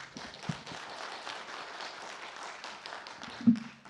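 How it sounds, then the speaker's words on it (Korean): An audience at a green-building forum applauds a presenter, soft, continuous clapping from a moderately sized crowd heard at a distance, with a low thump near the end. "다시 한번 우리 김기원 본부장님께 큰 박수 부탁드립니다"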